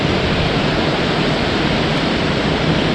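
Water surges through river regulator gates in a steady, dense roar of rushing flow, loud and unbroken.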